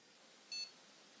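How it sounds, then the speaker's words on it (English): A computer motherboard gives a single short, high electronic POST beep during startup, clear but quiet over a faint background hiss. "There's the beep."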